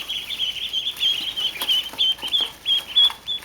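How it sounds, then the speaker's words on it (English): A group of about ten young ducklings peeping steadily in rapid high-pitched chirps, close and continuous, with no talk. "So here's 10 more little duckies."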